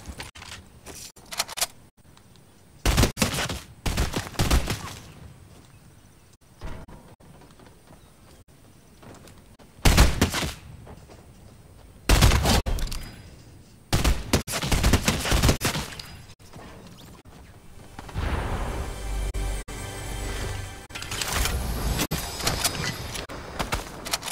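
Fortnite gunfire comes in scattered loud bursts and single cracks, separated by quieter stretches with mechanical clicks and rattles, close and punchy.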